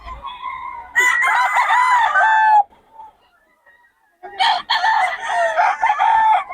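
Young gamecock stags crow loudly and close by at a rooster market, two full crows separated by a short quiet gap, with faint clucking in between.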